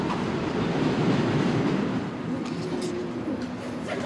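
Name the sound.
New York City subway train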